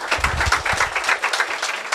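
Studio audience at a televised seafood talk show kickoff event claps throughout, a dense, steady patter of many hands close by with no voices over it.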